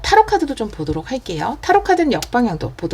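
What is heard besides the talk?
No distinct noise like a dog, phone or traffic.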